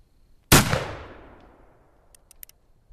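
Colt Single Action Army revolver fired once at a target, a single loud, sharp report that rings out and decays over about a second, with faint clicks afterward.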